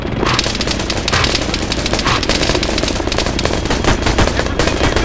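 Sustained machine gun fire pours out in Arma 3, loud, dense rapid bursts of suppressive shooting running continuously with no pauses.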